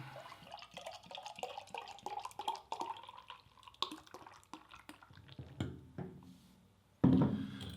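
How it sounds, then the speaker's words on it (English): Hazy New England IPA beer pours and splashes into a glass with a gurgling, bubbling sound, ending in a louder rush near the end. "Give me a little pour here."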